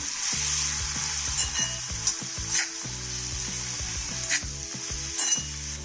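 Whole khada masala spices with coriander powder, turmeric and red chilli powder fry in a pan, a constant bright sizzle under repeated scraping stirs and light clinks of a spoon against the pan, close and without talk.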